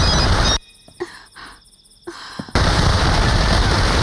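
Explosions from a Hindi-dubbed South Indian action film roar as loud broadband blasts, one opening the moment, then a quieter gap with small pops, then another heavy sustained blast.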